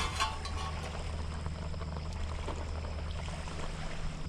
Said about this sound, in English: Let's get some of this olive oil in there.